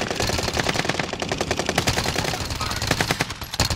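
An MP40 submachine gun fires in a video game, with rapid sustained bursts of automatic shots close and loud and evenly spaced for several seconds, no talking over them.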